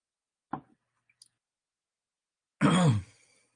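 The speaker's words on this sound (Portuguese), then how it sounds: "Deixa eu terminar de tossir." A man lecturing in a quiet room coughs: one short cough, a couple of faint clicks, then a longer, louder rasping cough or throat-clearing burst after a pause.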